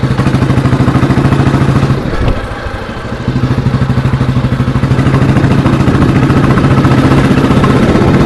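The engine of a restored 1992 model motorcycle thumps in a steady, rapid beat, loud and close, briefly dipping around the middle before picking back up, with no voices.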